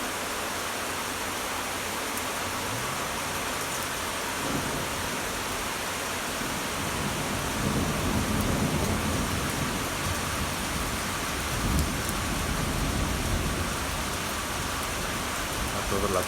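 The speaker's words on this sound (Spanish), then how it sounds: "La tormenta ya la tenemos prácticamente encima." Heavy rain during a thunderstorm in Etxebarri, a dense steady hiss of downpour heard close and loud throughout, with low rumbling swells suggesting thunder in the middle section.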